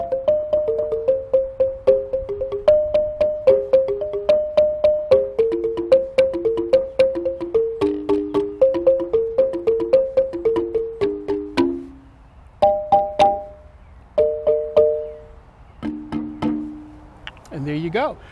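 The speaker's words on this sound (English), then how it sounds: "So the balafone sounds like this." A balafone, an African wooden xylophone with gourd resonators, is struck with mallets in a quick melodic run of bright, woody notes. It thins to a few sparse strikes near the end, then a brief voice at the close.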